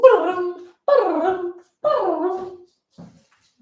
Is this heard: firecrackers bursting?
no